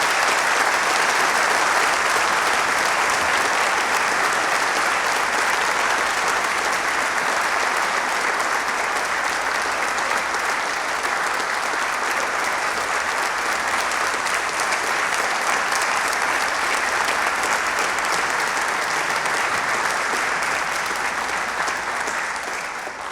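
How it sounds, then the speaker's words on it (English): An audience claps loudly and steadily for the panelists at a conference, with sustained applause filling the room for over twenty seconds before slowly tapering. "I was going to say let's clap one more time for our panelists, but you just doubled down on that."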